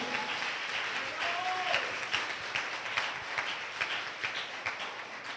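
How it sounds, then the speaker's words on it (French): A church congregation claps for the Lord during a French-English sermon, a steady wash of many hands clapping at moderate distance, fairly soft, with a few voices underneath. "Give the Lord a big clap."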